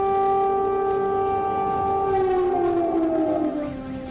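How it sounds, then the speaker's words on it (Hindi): A wailing air raid siren in Ukraine, sounded to warn of Russian air strikes, holds a loud, steady tone before its pitch slowly falls away toward the end. "रूसी हवाई हमले से अलर्ट करने के लिए लगातार सायरन सुनाई दे रहे हैं"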